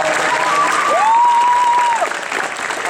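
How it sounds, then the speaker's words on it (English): Audience applause at a gathering honouring a coach, steady dense clapping throughout that eases slightly near the end, with a faint whistle-like tone in the middle. "So let's give Coach McClure a nice round of applause."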